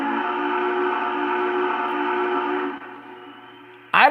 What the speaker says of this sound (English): when you hit Big Boy's whistle, you pretty much just want